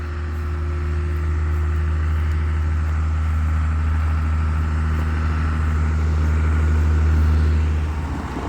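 Tractor driving up to park, its engine producing a loud, close, steady low drone with a deep rumbling hum that holds constant and swells a little before tapering at the end.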